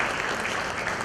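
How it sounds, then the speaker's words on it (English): An audience at a business event in Coimbatore applauds its chairman. The clapping is brief, dense and moderately loud, and it runs steadily for about a second. "Please give him a big round of applause."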